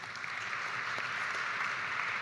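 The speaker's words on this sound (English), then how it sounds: "So another round of applause for everyone." An audience applauding the panelists at the close of a panel session on education, a steady, moderately distant wash of clapping that holds evenly throughout.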